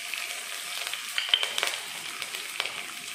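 Mustard seeds and cumin splutter in hot oil for rava idli, a close, steady sizzle scattered with sharp little pops and crackles.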